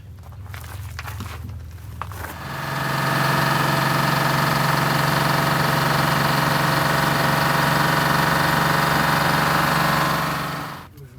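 A Detroit Diesel 6-71 engine idles after a very smoky cold start at 27 degrees. Brief clatter comes first, then a loud, steady low rumble holds for about eight seconds before it cuts off.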